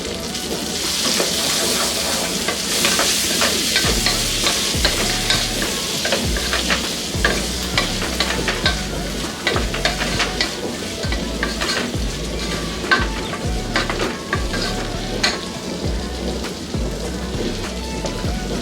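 Ridge gourd frying in a pan with turmeric and tamarind for chutney, a continuous close sizzle with repeated spatula stirs and scrapes, no talk.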